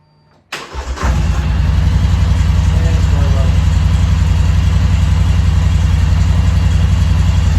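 An ATV engine, jump-started from a power tool battery, cranks over briefly and catches, then settles into a steady, loud idle close by with a low throbbing rumble.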